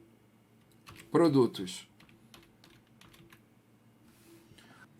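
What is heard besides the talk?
typing on a computer keyboard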